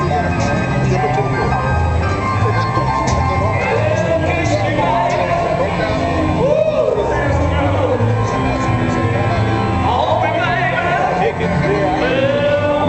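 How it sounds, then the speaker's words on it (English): Steady crowd hubbub fills an outdoor car show of old classic cars, a dense babble of many voices mixed with distant music and background noise that runs the whole time without a break. "we got a good crowd up here."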